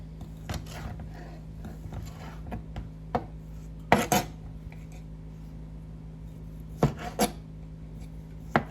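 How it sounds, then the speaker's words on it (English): Sparse knife chops through andouille sausage on a cutting board, a few sharp knocks spaced irregularly, with a steady low hum in the background. "Now I'm going to start chopping up my andouille sausage."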